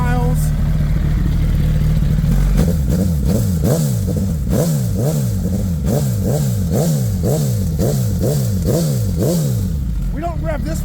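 A Suzuki Hayabusa with a built motor is started and revved in a garage. Its engine rises and falls in repeated rhythmic blips, loud and close, with voices talking over it.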